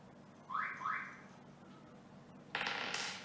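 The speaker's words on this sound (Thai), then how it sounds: "เอา น็อตออกก่อนนะครับสองตัว" Two nuts are unscrewed during assembly of an Aquatek AM100 water filter, heard as short, quiet plastic scraping and ratcheting bursts, a pair of rasps early on, then a brighter grinding scrape near the end.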